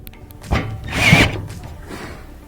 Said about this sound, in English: we're going to add the screws on the bottom. These are also our Torx screws.